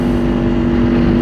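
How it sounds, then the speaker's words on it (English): Kawasaki Ninja 500 motorcycle, a 2024 model fitted with a loud aftermarket exhaust, holds a steady, throaty engine drone at close range with no break and no talk. "It's not the stock exhaust, obviously. It would not be this loud."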